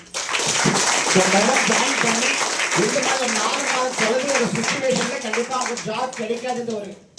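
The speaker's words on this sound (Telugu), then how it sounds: "వీళ్ళకి ఫస్ట్ క్లాప్స్ ఇద్దాం" An audience at a getting-started business program in Chennai applauds new team members, loud sustained clapping with a speaker's voice running over it.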